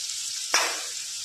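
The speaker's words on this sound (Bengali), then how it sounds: "এই যে আমার আলুটা ভাজেছি এমন ভাবে সিদ্ধ হয়ে গেছে।" Potatoes in a pan give off a steady hiss of frying, with a brief sharper sizzle burst in the middle before settling back to the constant crackle.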